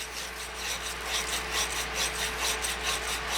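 Copper water pipe rubbed clean with an abrasive before soldering, a steady rasping scrape repeating in quick even strokes, close and alone.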